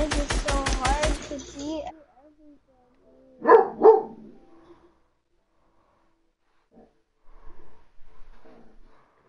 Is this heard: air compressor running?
no